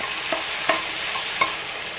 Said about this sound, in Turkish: Biraz yeşil soğanla kavuralım.